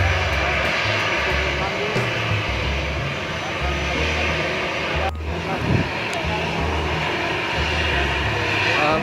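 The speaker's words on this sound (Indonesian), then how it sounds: "Pesawat kepresidenan tiba" A presidential airplane arrives in Maluku Tenggara for an official welcome, its engines producing a steady, loud, broad roar that fills the whole clip, with a brief dip midway.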